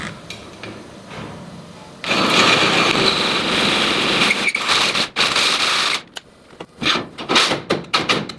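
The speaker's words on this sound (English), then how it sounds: "I'm gonna go ahead and mark about an inch above this current pick location and drill my hole" A drill boring a hole through a trailer gate outdoors, a loud steady whine starting after a quiet lead-in and running for several seconds, then breaking into shorter bursts and clanks as the bit finishes.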